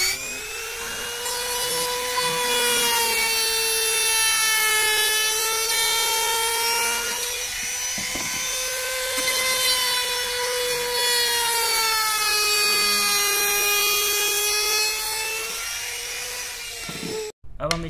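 A power saw cuts wood for a base plate that fits under a cutter machine. A loud, steady motor whine runs close and unbroken for about seventeen seconds, then stops abruptly.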